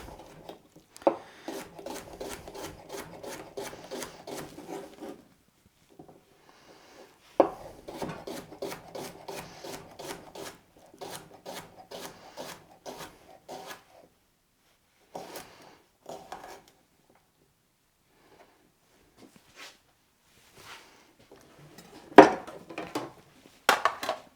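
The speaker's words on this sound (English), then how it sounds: "I'll just cut them into little slices" A knife slices through cucumber on a wooden cutting board in quick, rhythmic bursts of repeated strokes, separated by short pauses, close and fairly clear.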